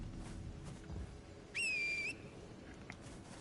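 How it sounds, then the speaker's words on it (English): A single clear in-game whistle sounds in Elden Ring, a steady bright tone lasting about half a second over quiet background ambience. "Okay, whistled. I'll whistle again."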